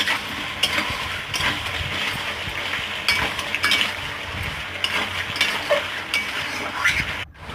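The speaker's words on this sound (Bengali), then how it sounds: "নুন দিয়ে ভালো করে কষিয়ে নিতে হবে।" Boiled potatoes with salt being stir-fried in a pan, a steady sizzle under repeated scraping and clinking of a metal spoon against the pan, ending abruptly.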